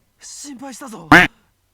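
A character in the Steins;Gate 0 video game lets out a loud spoken quack, a short burst near the end that follows a brief stretch of voiced speech, with a single voice imitating a duck.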